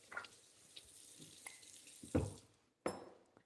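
Water poured from a cup into a bowl of German chocolate cake mix, a brief splashing pour near the end following quieter kitchen handling noises, with no talk.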